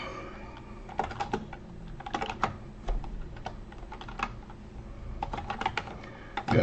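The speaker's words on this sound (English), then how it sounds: "So I'm just going to start typing the ones I see." Someone typing on a computer keyboard nearby, bursts of quick clicking keystrokes with brief pauses between words, fairly quiet and without speech.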